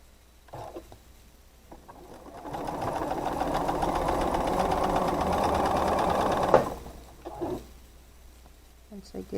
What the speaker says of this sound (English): But let's go ahead and sew this together.